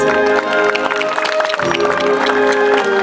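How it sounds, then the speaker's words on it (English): An outdoor audience applauds the Ste. Genevieve Municipal Band after an evening performance, a dense, sustained patter of many hands that holds steady for several seconds, close and loud. "Let's give them all a round of applause."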